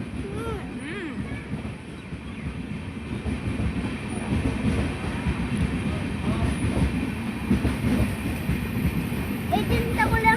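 A train rolls past nearby with a continuous low rumble and faint clickety-clack of wheels, steady and loud throughout, with some people talking faintly underneath.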